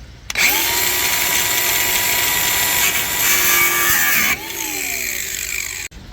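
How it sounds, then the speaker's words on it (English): A power tool grinds and shaves away aluminum on a boat throttle part, a loud continuous whine that runs for several seconds, dips once in pitch midway, and stops abruptly near the end. "shave that aluminum on the right side there, down a little bit where this will slide in and out easily."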